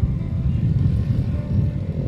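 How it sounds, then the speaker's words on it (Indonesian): A noisy motorbike on a road between Sumedang and Subang, its engine a heavy low rumble that stays loud and close throughout, with no talk over it. "aduh ini motor berisik amat"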